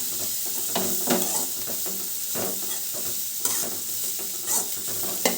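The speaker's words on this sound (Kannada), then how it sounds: "ಫಸ್ಟ್ ಇದನ್ನು ಎಣ್ಣೆ ಒಳಗೆ ತಳಿಸ್ಕೋಬೇಕು ರೀ" Wild karchikayi fries in hot oil with onion, a steady close sizzle and crackle broken by spatula stirring and scraping against the pan, with no talking.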